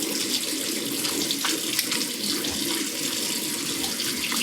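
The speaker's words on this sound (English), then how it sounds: "as I finish rinsing" A tap runs steadily into a sink while someone rinses after a safety razor shave, an even close hiss of flowing water with faint splashes and no talking.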